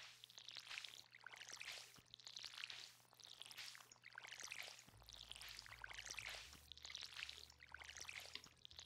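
Crops being watered in the farming game Stardew Valley make repeated soft splashing pours, a burst roughly every second in an even rhythm, faint and with no talking.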